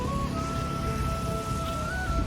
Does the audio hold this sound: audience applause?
no